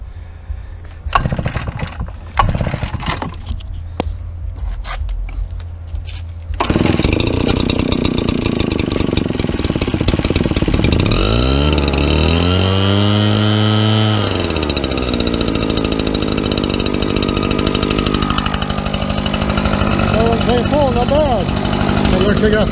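A lawn mower engine, primed and choked, starts after a few cranking pulls and settles into a loud, steady running drone with a brief pitch sweep, and a voice speaks over it early on.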